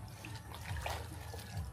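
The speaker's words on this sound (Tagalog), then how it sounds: "Buhayin mo tubig daw kay may sabon dito." Water running steadily from a tap during hand laundry with soap, a soft continuous splashing flow, fairly faint and without talk.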